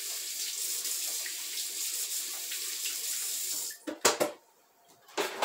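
Kitchen tap water running steadily while a knife is rinsed, a close hissing stream that stops and gives way to a few clinks and handling noises.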